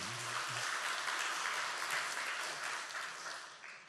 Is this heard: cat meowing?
no